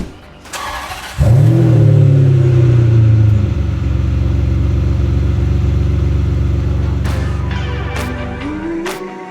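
A car engine cranks and fires up, then revs loudly and settles into a deep, sustained idle rumble close to the microphone, with a few clicks and knocks near the end.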